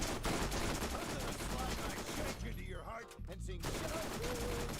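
Gunfire in Borderlands 4 rattles out as rapid, loud bursts, nearly continuous apart from a short lull in the middle, with game effects mixed in.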